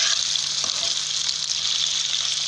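Olive oil sizzles steadily in a pan as beetroot fries, making a constant loud hiss with a faint low hum underneath and no talking.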